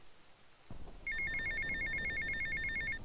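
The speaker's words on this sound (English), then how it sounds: "Phone ringing. Whose phone is that?" A telephone rings in a GTA video game, a loud, steady electronic trill that starts about a second in and keeps repeating over low game ambience and thumps.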